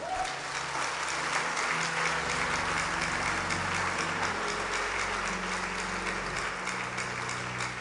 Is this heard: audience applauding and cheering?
yes